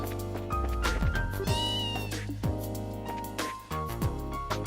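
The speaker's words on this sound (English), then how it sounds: "cute little kitty." A cat in The Legend of Heroes: Trails in the Sky video game meows several times, loud and close, over busy tonal game music.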